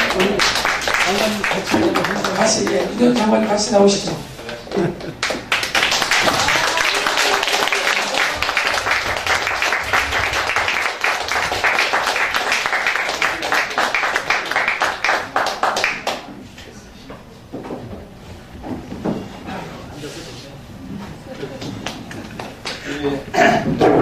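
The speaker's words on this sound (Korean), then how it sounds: "강경민 목사님 나오실 때 큰 박수 모시겠습니다" Audience at a political talk concert claps loudly as guests come up to the stage; sustained crowd clapping runs under an announcer's amplified voice, then drops away as speech continues.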